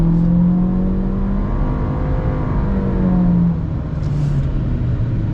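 A 2022 Honda Civic with a 1.5L turbo engine accelerates in S mode, its steady engine drone holding close and loud with a slow rising whir and no talk.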